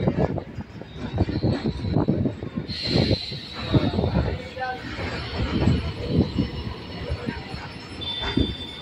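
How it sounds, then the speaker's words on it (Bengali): Kolkata circular rail train pulling away from Majerhat station, with a continuous heavy rumble and rhythmic wheel clatter, and a thin wheel squeal at times, loud and close from inside the carriage. "আমাদের ট্রেন এখন পুরোপুরি মাঝেরহাট স্টেশন ছেড়ে বেরিয়ে গেল।"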